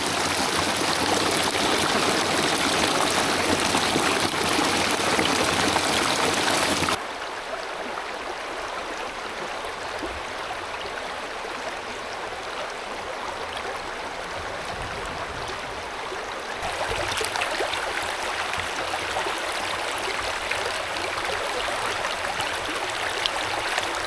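A mountain creek flowing on a rainy hike, a continuous broadband rush of running water that stays close and steady, shifting in level as the listener moves along the bank.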